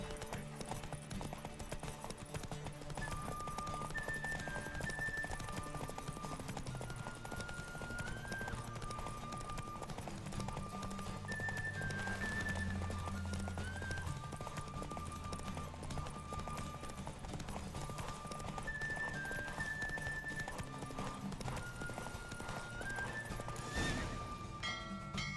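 A horse gallops in a race in the video game The Witcher 3, with a steady clip-clop of hooves, repeated neighs and whinnies, and a game music score running continuously underneath.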